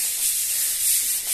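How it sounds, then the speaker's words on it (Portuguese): Sandpaper rubbed over a bedroom wall in a small rental studio before repainting, a steady scratchy rasp with gentle swells as the strokes go back and forth, close and alone. "Tá lixando."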